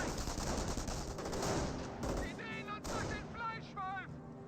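MG42 machine gun in Company of Heroes firing on a rifle squad, dense loud bursts of gunfire over a noisy battlefield, easing toward the end as scattered shots and voices take over.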